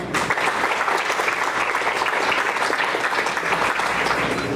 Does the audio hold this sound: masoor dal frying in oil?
no